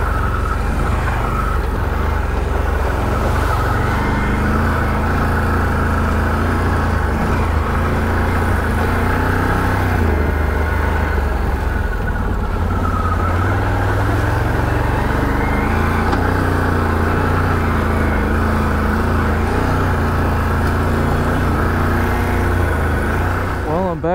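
A Can-Am Renegade ATV engine drones steadily while riding a trail in two-wheel drive on Drummond Island, a loud continuous close rumble with shifting pitch as the rider moves along.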